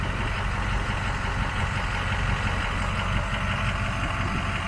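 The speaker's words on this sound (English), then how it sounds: "4-inch exhaust with muffler. So it's not super loud, but it sounds good. It's got a little rumble to it." A 2007 Ford F350 Powerstroke diesel pickup idles steadily with a low, even rumble through a 4-inch exhaust with muffler, moderately quiet and unbroken throughout.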